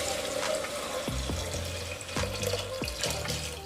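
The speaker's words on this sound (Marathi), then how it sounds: "तर मी इथे एक अर्धा लिटर पाणी गरम करून घेतले, ते टाकून घेऊया।" Hot water splashes into a pan of sautéed moth beans, a steady low pouring rush with a few bubbling gurgles and sizzling pops, fairly quiet and without speech.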